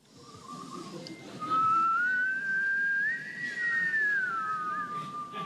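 A person whistling a single wavering melodic line, clear and fairly close, rising and falling in pitch over several seconds with faint room noise beneath.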